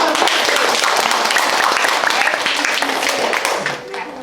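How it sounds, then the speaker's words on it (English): A crowd at a public speaking contest applauds steadily and loudly, dense clapping filling the whole stretch before tapering off slightly at the end. "big round of applause"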